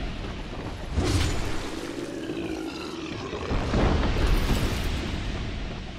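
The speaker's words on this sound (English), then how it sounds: "They have bombs, I gotta watch out for these." Bombs exploding in Dark Souls 2 at No-Man's Wharf, two deep rumbling blasts about three seconds apart, each swelling into a roaring boom that fades slowly, no talking.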